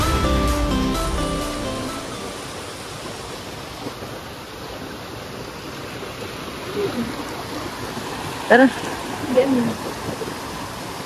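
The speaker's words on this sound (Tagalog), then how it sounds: "Ganda ng ilog din ang lalim." Water rushing along Teodoro River, a broad steady wash of flowing water that fills the scene, with people talking over it and a few louder splashes near the end.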